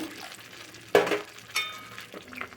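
Water poured into a simmering pot of fish head mung dal, bringing two sharp splashing bursts over a low bubbling sizzle, close by.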